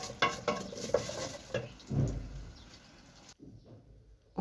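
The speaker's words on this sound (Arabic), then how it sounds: "انا هنا بقلب في الشعريه بس لحد ما تاخد اللون" Vermicelli frying in a pot sizzles softly while a utensil stirs it, giving scraping and light knocks before the sound drops away to near quiet.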